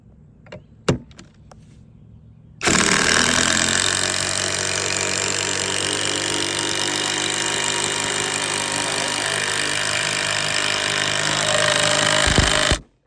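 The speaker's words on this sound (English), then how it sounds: "when I'm running this impact driver, when you hear that noise like that, that's the impact mechanism engaging" A cordless JAVN impact driver with a 4.0Ah battery drives a screw in one long continuous burst of about ten seconds, loud and close, with a steady rattling hammer after a couple of faint knocks.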